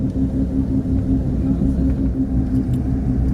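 A car drives along a Smoky Mountains road, its low engine rumble and road noise loud and steady from inside the cabin, with no one talking.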